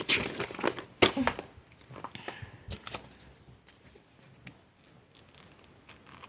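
Close crinkling and tearing of a thin paper or plastic packet, with a few sharp rips followed by softer rustling.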